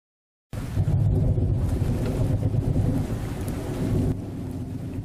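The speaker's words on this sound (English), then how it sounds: "The sudden clap of thunder had shaken him from his deep sleep." A loud rumbling thunderclap bursts in after a moment of silence, rolling over steady heavy rain during a storm.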